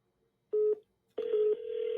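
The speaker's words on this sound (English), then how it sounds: "Now you hear that phone call? That is it connecting me to myself" Telephone tones as an automated call connects: a short tone, a pause, then a longer steady dial-like tone, clear and close with no talk.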